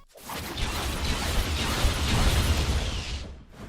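The new version of a Rell Seas ability sound effect: a dense, rumbling burst of energy swells and holds for a few seconds, crackling and grinding with a deep low end, then cuts off abruptly.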